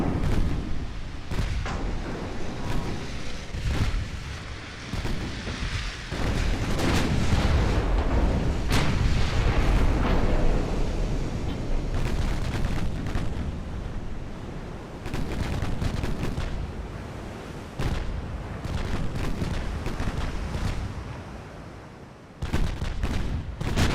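Warship secondary guns fire in the naval strategy game Ultimate Admiral Dreadnoughts, a dense, rolling barrage of booming shots and explosions that swell and fade, with a brief lull before the firing resumes.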